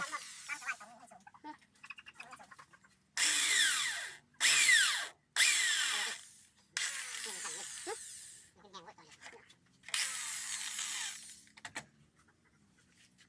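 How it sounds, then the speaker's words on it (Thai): Several loud bursts of a power drill whirring in short spurts while drilling into the saltpeter fuel of a small rocket, separated by brief pauses, with quiet talk and handling noise in between. "การเจาะรูไฟนะครับพี่น้องเด้อการเจาะรูไฟ"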